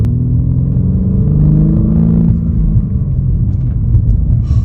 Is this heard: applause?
no